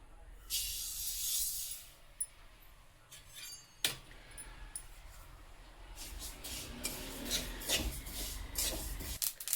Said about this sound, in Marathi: आता आपण ते काढून घेऊ आणि तीळ भाजूयात